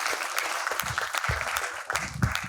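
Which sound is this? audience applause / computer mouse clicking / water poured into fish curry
audience applause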